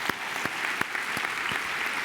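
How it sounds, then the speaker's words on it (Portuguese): Audience applause at a church programme: a steady wash of many hands clapping, with a few sharper claps standing out through the two seconds. "Vamos aplaudir a Jesus."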